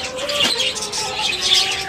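Zebra finches and budgerigars in a home aviary give quick, bright chirps and tweets that overlap into a busy, close chorus, with no voices over it.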